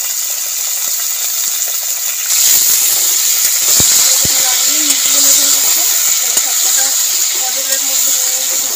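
Pointed gourd (potol) fries in hot oil with a little turmeric, making a steady, close hissing sizzle broken by a few sharp utensil clinks.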